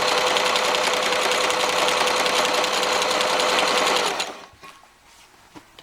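A sewing machine runs fast and steady for about four seconds stitching the seams of a strip-pieced fitted crib cover, then stops, leaving faint handling sounds of fabric.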